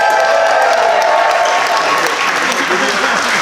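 Loud, dense applause from a large crowd at a brand launch event for a soccer club, steady clapping filling the room with a few cheers mixed in, sustained throughout.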